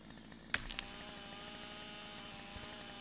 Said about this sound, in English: Once again, back to the chainsaw.